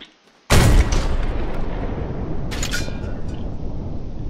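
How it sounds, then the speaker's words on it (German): In the video game Hell Let Loose, a single loud, sharp anti-tank gun test shot bursts out after a moment of quiet, followed by a long rumbling roar that slowly fades. "Ich mache mal einen Testschuss auch nochmal."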